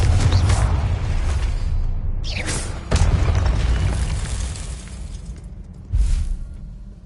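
Confringo blasting-spell explosions in Hogwarts Legacy, a series of booming, shattering blasts with a few sharp cracks that stand out, then a final burst near the end as the rumble trails off.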